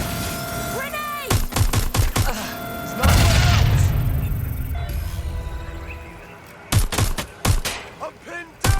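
Bursts of rapid gunfire from the video game Watch Dogs: Legion, with repeated sharp shots and a heavy booming blast in the middle, then more scattered shots near the end.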